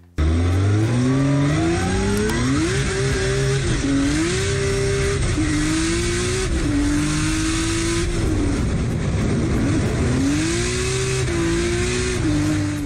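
A drift car's engine revs and falls in long rising and dropping sweeps, heard close from inside the cabin and loud throughout, with gritty tire noise over the middle stretch as it slides.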